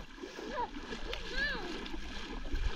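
Children in their clothes splash as they wade into a river at a spring carp-fishing spot, with steady water noise and excited young voices calling out over it.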